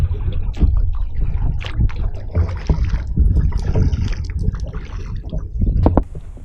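A boat moving across water with a constant rumbling motor and splashing, loud and close throughout.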